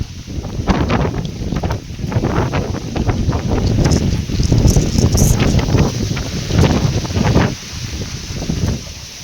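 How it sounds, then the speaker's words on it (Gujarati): Strong gusty wind before a village rainstorm roars and buffets close to the microphone without a break, rising and falling in loud surges. "વાવાઝોડા સાથે વરસાદની આગમન થઈ ગયું છે."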